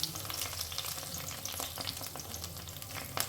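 Curry leaves and ginger frying in hot oil in a steel pan for a South Indian crab curry, a steady close sizzle with stirring scrapes and pops throughout, no voices.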